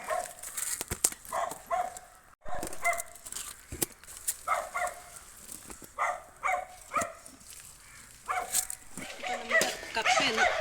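Several dogs bark and whimper in repeated short bursts close by, with brief yips between, in an outdoor kitchen setting where a meal of tapioca and fish curry is being served.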